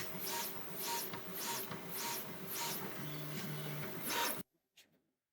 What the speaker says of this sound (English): the printer goes through its bed leveling to make sure that it knows where the bed is